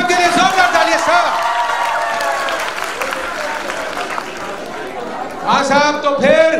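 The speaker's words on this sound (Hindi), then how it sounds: "जोरदार तालियां साहब" Audience applause and cheering at a quiz show fill the room while someone speaks over it, with more voices and clapping rising near the end.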